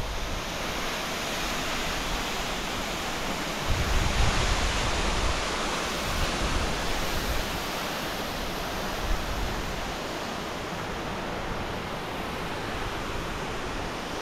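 The Ilomska waterfall on Vlašić in Bosnia, one of the tallest in the country, roars as a steady, dense, full-bodied rush of falling water that holds unbroken throughout with no voices.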